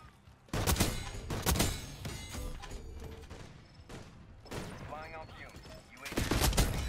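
Rapid gunfire bursts from an SVD sniper rifle in the Black Ops 6 video game, loud sharp volleys near the start and again at the end, with quieter game sounds between.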